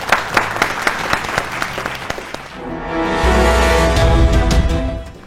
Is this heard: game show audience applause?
yes